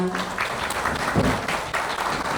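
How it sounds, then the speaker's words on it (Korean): Welcoming applause from a studio audience as a liver-disease lecturer takes the stage at a Korean health program, a steady patter of many hands, fairly even and moderately loud, with no speech over it. "환영의 박수 부탁드립니다"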